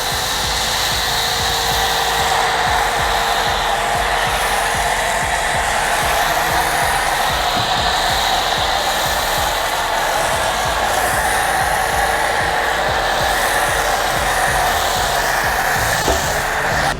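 A home car-wash foam sprayer machine runs continuously with a loud, steady, close motor whine and airy hiss that barely changes for the full length.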